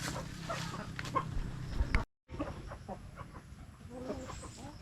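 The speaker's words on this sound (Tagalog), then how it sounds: "Tandang po." A rooster and hens cluck softly nearby in a backyard coop where eggs are gathered, the scattered calls continuing through a brief cut in the recording.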